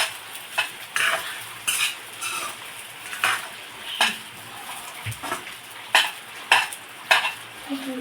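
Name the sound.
soaked sabudana being stirred and sautéed in a pan with chillies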